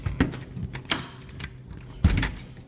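A closed door in a church room being worked open, with several sharp mechanical clunks and rattles from the latch, close and fairly loud.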